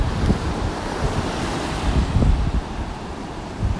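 Ocean waves wash and break steadily on a beach on a morning walk, a loud continuous surf roar mixed with gusty wind buffeting the microphone.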